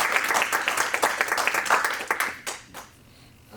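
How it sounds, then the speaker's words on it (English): An audience at a live comedy show claps in a lively burst of applause that fades out after a couple of seconds, leaving near quiet. "So one more round of applause for all of our comics you'll have seen for this evening."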